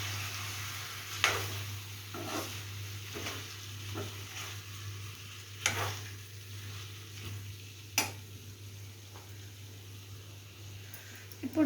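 Chicken fry being stirred in a pan, a spoon scraping and clinking in repeated strokes over a low steady sizzle, close and fairly quiet, with a constant hum underneath.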